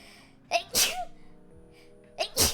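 Two sneezes in close succession, each with a quick sharp intake and a loud burst, heard up close with no talking in between.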